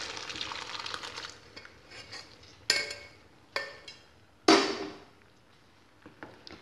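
Chicken soup is stirred in a pot with a soft, quiet swishing, punctuated by three sharp metallic clinks of a utensil against the pot rim that ring briefly and fade.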